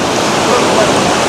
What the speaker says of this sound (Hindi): नदी में है, बहुत विराट रूप है यहाँ पे नदी का, और कहाँ तक पानी आ रहा है आप देख सकते हैं।